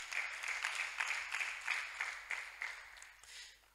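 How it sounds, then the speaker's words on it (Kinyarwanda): A church congregation clapping for the word of God during a sermon, a rhythmic, moderately distant round of hand claps that fades out toward the end. "Reka dukomere ijambo ry'Imana amashyi."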